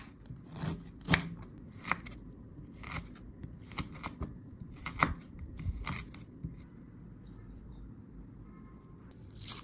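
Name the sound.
knife thinly slicing peeled ginger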